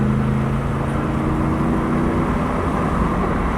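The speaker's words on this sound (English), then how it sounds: "Let's give her a little gas." An old Lexus, parked for ten years, drives on a back road with a steady, loud drone of engine and tyres. The hum is constant and swells only slightly as it picks up speed.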